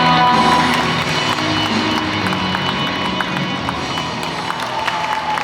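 Wedding guests applauding at a wedding hall ceremony in Cheonan, steady crowd clapping throughout, moderately loud with a faint murmur underneath.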